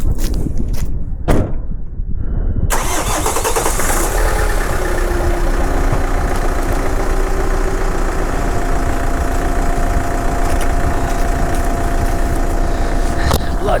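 A camper van engine running loud and steady as the vehicle drives on a foggy road in the Welsh hills, a continuous drone with rumble and rattling that follows a few brief knocks at the start.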